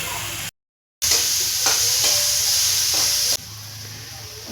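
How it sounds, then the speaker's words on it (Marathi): Ground masala paste hits browned onions frying in a pan for a soybean samosa filling, giving a loud, steady sizzle and hiss after a brief silent gap, with stirring scrapes, then settling into a quieter fry. "कांदा लाल झालेला आहे. त्याच्यामध्ये आपण हे वाटण जे वाटलेलं आहे ते टाकायचं."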